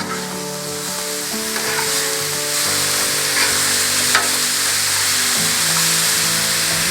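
Wagyu burger patties and hot sausage sizzle on a hot griddle, a loud, steady crackling fry with faint scraping and a brief tap near the end.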